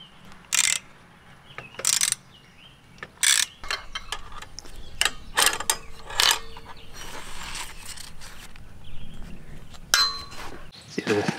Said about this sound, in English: You have to take this wheel off to get to that bolt under there.